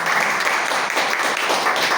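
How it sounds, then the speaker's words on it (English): An audience at a Toastmasters club meeting gives a round of applause. Dense, loud clapping from many hands fills the whole short stretch without a break. "Please have a big round of applause for this."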